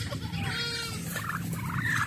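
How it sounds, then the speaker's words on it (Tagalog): A goat bleats in a wavering, drawn-out call at a rural Philippine yard with poultry, fairly close over low outdoor background noise. "Ang kambing ni Kuya Ron"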